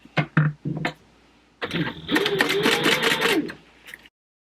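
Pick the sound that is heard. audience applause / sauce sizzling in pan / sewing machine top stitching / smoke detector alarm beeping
sewing machine top stitching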